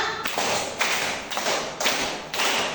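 Schoolchildren in a classroom clap in a series of about five rhythmic group bursts, each a dense wash of many hands, evenly spaced and fairly loud.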